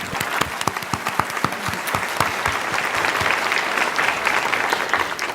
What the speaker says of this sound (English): let's give a warm round of applause to welcome Dr. Wu